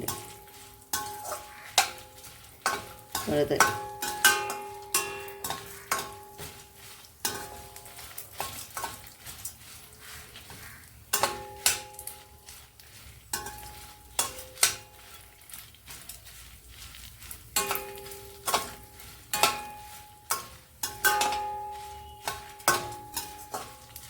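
Dried red chillies frying in a pan alongside garlic cloves, a steady crackling sizzle punctuated by frequent sharp scrapes and clinks of a spoon stirring against the metal, close and clear with no talking.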